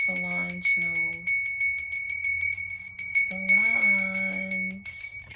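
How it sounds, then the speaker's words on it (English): A small hand bell rings in repeated quick shakes, bright metallic strokes coming steadily throughout, close and loud, while someone speaks over it in two stretches. "and then I'm going to ring the bell."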